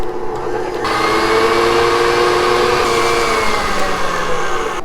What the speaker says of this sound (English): I'm going to apply my whisk attachment to the stand mixer and whisk up these egg